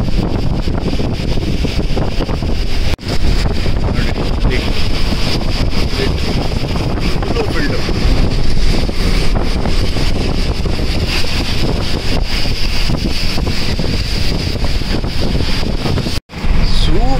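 Heavy rain and strong wind roar continuously during a drive on the Shiradi Ghat road in the Western Ghats, with dense, loud buffeting noise throughout and two brief drops in level.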